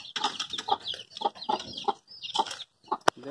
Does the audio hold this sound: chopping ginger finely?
no